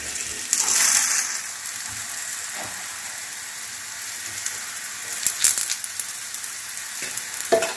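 Badam uppittu cooks in ghee on a tawa, giving a soft continuous sizzle punctuated by a few sharper crackles and scraping stirs, moderately close and without talk.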